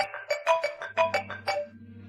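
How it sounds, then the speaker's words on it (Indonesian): A melodic electronic phone ringtone plays a quick run of bright tones with a low sustained drone underneath, no voices. "Kak Ipa, aku angkat telepon dulu."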